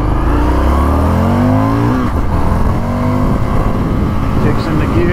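A 2019 Indian FTR 1200 S motorcycle accelerates hard through the gears, its loud engine note climbing in pitch, dropping at a shift, then rising again, heard close from the rider's position.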